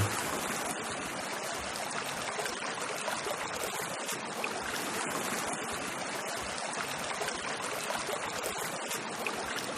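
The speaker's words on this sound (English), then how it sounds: "They had dug a small stream which wound its way around the hill that the waterfall was on." A small dug stream carrying water diverted from a hillside waterfall flows steadily, a continuous close rushing and trickling wash with no pauses.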